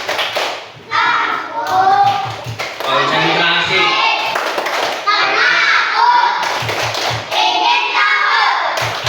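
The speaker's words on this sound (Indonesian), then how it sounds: "Tepuk konsentrasi." A group of children in a classroom perform a concentration clap routine, with rhythmic bursts of hand claps mixed with chanting young voices at close range.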